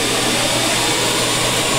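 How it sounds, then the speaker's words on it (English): A vacuum cleaner with its hose on the exhaust side, working as a blower during a beehive removal, roars in a loud, steady broadband whoosh with a low hum underneath and no pauses or talk. "So we're going to turn the vacuum on."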